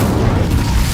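A single deep, dull magical fire blast from the Incendio spell in Hogwarts Legacy, a muffled boom that fills the whole brief moment, loud and close.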